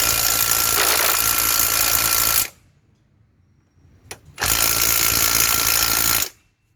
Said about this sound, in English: This is the limitations, by the way, of small impact guns, just demonstrated.